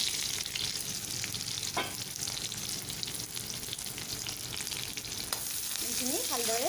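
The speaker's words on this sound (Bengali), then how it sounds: "তেলখিনি গৰম হৈ গৈছে এতিয়া মই ইয়াতে পিয়াজ আৰু জলকীয়াখিনি দিলোঁ" Onions and green chillies hit hot oil and fry with a dense, steady crackling sizzle that fills the whole stretch, close and even, with one brief scrape and no talking.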